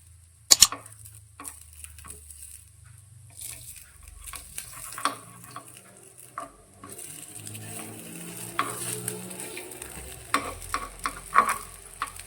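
Moong snack stirred in a pan, with scattered scraping and stirring clicks over a soft sizzle of frying that grows busier and louder toward the end.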